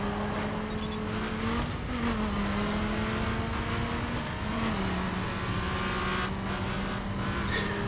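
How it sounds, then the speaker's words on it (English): Loud racing car engine in a video game, a continuous droning roar that shifts pitch as it revs and changes gear, with a faint tire squeal and no break in the noise. "My car's too loud, I can't hear this."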